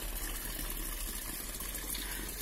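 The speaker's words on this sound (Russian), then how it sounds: "Но сейчас просто как фонтан." Water runs steadily from an old drinking fountain in an English village, a continuous soft gushing trickle with no break, fairly faint and heard alone.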